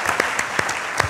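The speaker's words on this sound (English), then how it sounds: "I will give him a big round of applause." Loud, close applause from a studio audience on a televised quiz competition, a brief dense burst of clapping with a few sharper claps standing out.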